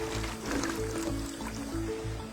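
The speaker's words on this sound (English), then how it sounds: "He then fills the pot with more water so it achieves the same consistency he had before the tomatoes" Water pours into a large pot of tomato sauce in a big communal kitchen, making a soft, steady trickling fill over a low rhythmic background hum.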